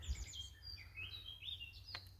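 Birds chirping and twittering outdoors in spring at a grassy van campsite, a few faint, scattered calls heard from a distance over low background hum.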